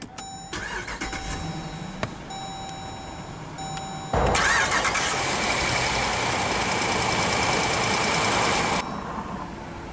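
A 2017 Jeep Grand Cherokee Summit with a 5.7-liter Hemi V8 has chimes before it, then a loud push-button start and a strong crank that settles into a steady, full idle that drops off near the end.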